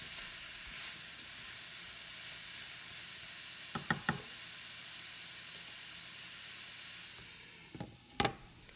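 Chile and liver sizzle in a pan for a Sinaloa-style liver and onion stew, a steady soft frying hiss with a few brief knocks and stirring clatters near the middle and end.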